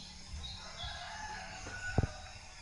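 A rooster crows once at a resort among many chickens, a short, fairly distant call rising over quiet outdoor ambience.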